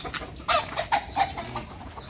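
Chickens cluck in short, repeated bursts in a coop against a busy background hiss, several soft clucks close together.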